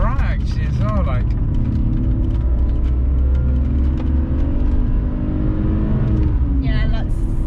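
A BMW E46 325i saloon with a manual gearbox accelerates hard, its engine note rising in a loud, continuous drone heard from inside the car while people talk over it.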